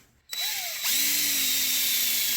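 A power drill spins up and bores steadily with a worn, dull drill bit while working on an old Toro 3521 snow blower, the motor tone rising once it loads and then holding a loud, continuous whine with no talking.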